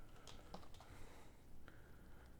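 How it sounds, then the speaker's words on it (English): Rapid clicks from a computer keyboard as shortcut keys are pressed, crisp close taps in irregular short bursts over a quiet background. "And I'm also using shortcut keys."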